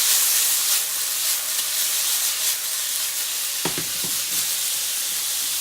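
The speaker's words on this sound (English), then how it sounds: "Let it get good and seared. On that high heat, it's not going to take very long" A deer heart sears in a pan over high heat, giving a loud, steady sizzle and hiss throughout, with a few sharp crackles and pops near the end.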